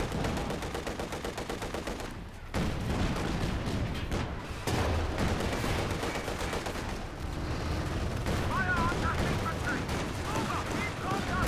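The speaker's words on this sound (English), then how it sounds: "M42 AT guns open up." M42 anti-tank guns fire in a Company of Heroes 2 battle, sharp repeated booming shots amid continuous gunfire and explosions, loud and dense, with brief lulls between volleys.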